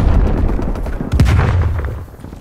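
A grenade explodes in Call of Duty Cold War with a loud, close boom followed by a rolling rumble that fades out over about two seconds.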